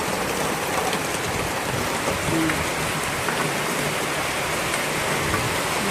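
Steady, dense rain pattering on surfaces, a continuous even hiss with no voices, moderately loud throughout.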